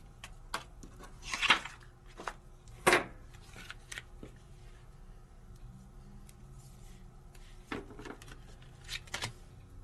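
Scissors snip a piece out of a sheet of craft material, giving a few sharp, close cuts with quiet rustling and handling noises in between.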